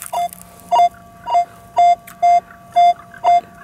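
A metal detector sounds a regular series of short electronic beeps, about seven evenly spaced identical tones, loud and close, with faint background noise between them and no talk.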